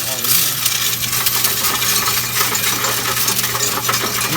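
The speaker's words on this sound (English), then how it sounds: "And here's where it like slides the coins in. So you want to pour it all in here." Loose coins cascade into a coin-counting machine in a continuous loud clatter, a dense metallic jingling that runs steadily for several seconds without talk.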